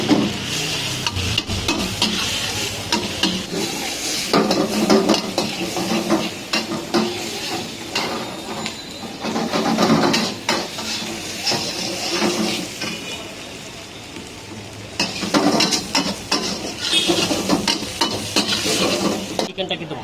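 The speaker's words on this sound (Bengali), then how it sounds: "চিকেনটা কিন্তু ভাজা হয়ে গেছে" Chicken for chow mein stir-fries in a pan with a continuous loud sizzle and repeated scraping stirs. A brief voice is heard once, low under the frying.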